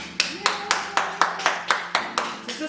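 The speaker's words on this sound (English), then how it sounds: "Let's give a round of applause." Roughly ten evenly spaced hand claps ring out close by in a home kitchen after a Southern dinner is finished, each clap sharp and separate, with a faint tone in the background.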